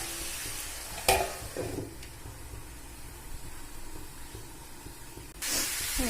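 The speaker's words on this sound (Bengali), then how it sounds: "ঢাকনাটা খুলে নাড়াচাড়া করে নিচ্ছি আমি" Chicken curry in a hot pan sizzles and hisses steadily after the lid comes off, with a sharp clank of a utensil early on, a few scraping stirs, and the sizzle swelling louder near the end.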